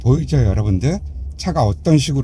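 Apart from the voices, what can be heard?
No everyday noise stands out behind the speech.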